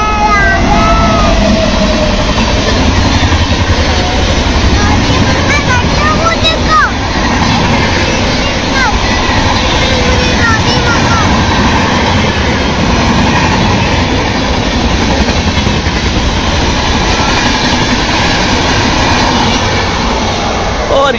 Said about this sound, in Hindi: फाइनली मानविक की विश पूरी हो गई, ट्रेन यहाँ पर आ ही चुकी है। Yes, the train is coming, it's coming.